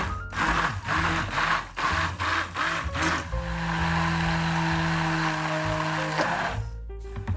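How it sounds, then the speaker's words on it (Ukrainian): An immersion blender whirs through a thick chocolate and blueberry namelaka mixture in short, choppy bursts, then settles into a steady, loud, continuous hum before cutting off. "знов це самим блендером пробиваю всю масу вже шоколаду"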